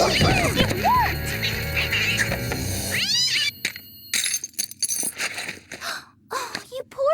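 A cartoon cat lets out loud, wavering yowls and caterwauls, rising and falling in pitch, followed by scattered crashes and thumps, with cartoon voices speaking around the noise.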